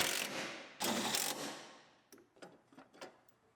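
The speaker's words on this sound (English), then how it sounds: "Bolt the overflow in." Overflow tank bolted onto a GMC Yukon in a garage, starting with two short bursts of a power tool or ratchet, then a series of small metallic clicks and taps that fade out.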